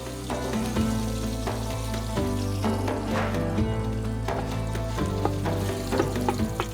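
Hot olive oil sizzles and crackles steadily in a pot, a close, continuous frying sound with a low hum underneath and no talking.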